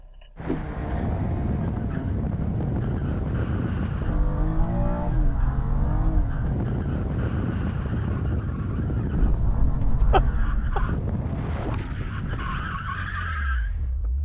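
Car tyres skid and squeal loudly over a revving BMW engine before a drag race, the screech rising and wavering for several seconds before the car pulls away.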